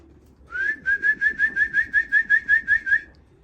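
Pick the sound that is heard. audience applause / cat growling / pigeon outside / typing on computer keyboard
pigeon outside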